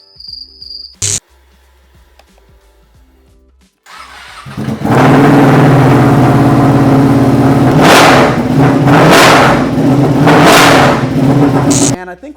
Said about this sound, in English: This is the loudest exhaust available for Panigale V2s.